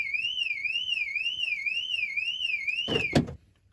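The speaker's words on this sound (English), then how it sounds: "I don't know if that alarm is going to keep going off" A warbling electronic alarm rises and falls steadily, loud and close, then cuts off after a couple of sharp knocks near the end.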